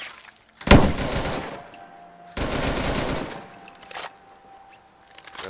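A FAMAS rifle with no suppressor fires in Fallout 4. Two loud bursts of automatic fire come a couple of seconds apart, followed by a shorter, fainter shot.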